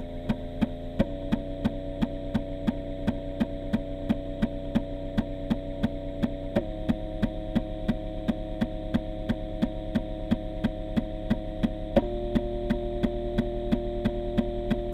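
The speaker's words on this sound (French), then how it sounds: "on entend même le lecteur qui change de vitesse" A Macintosh 800K floppy drive gives a steady mechanical hum with a rapid, regular throbbing pulse, shifting pitch in distinct steps a few times as the drive motor changes speed.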